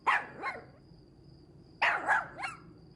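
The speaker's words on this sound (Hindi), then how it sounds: "कुत्ता नजर आ रहा तुम्हें?" A dog barks in two short bursts of two or three sharp barks each, separated by a pause of about a second, moderately close, with no talking.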